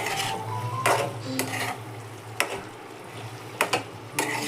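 Chicken fry mixture being stirred in a pan: repeated scraping, clattering strokes of a utensil against metal at an uneven rhythm, over a low background hiss.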